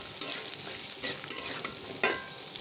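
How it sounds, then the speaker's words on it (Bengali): Food frying in oil in a pan being stirred, a steady close sizzle with intermittent scraping stir strokes, moderate loudness and no talking. "এটা আমি সুন্দর করে নাড়াচাড়া করব।"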